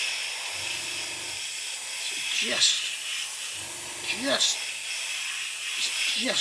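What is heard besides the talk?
aerosol spray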